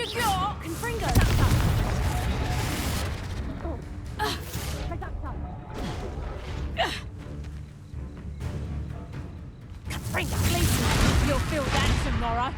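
Heavy magical blasts from the Confringo fire spell boom repeatedly in Hogwarts Legacy combat, several loud near explosions with a quieter stretch between, while voices shout and talk throughout.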